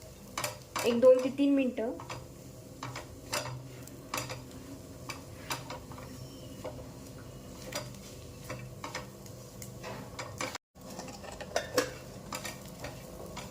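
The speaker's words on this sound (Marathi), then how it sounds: "आपल्याला हा मसाला चांगला परतून घ्यायचा आहे कांद्यासोबत" Dry spice masala sautéed with onions in oil for stuffed brinjal, with a metal spoon scraping and clinking against the pan over a faint sizzle; a voice speaks briefly near the start.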